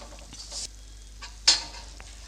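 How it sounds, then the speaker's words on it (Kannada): Peanuts and dry coconut go into hot oil for an avalakki (poha) mixture snack, giving two short, close sizzling bursts with light stirring scrapes between them; no one speaks. "ಶೇಂಗಾ ಬೀಜ ಮತ್ತು ಒಣ ಕೊಬ್ಬರಿನ ಹಾಕ್ಕೊಳ್ತಾ ಇದ್ದೀನಿ"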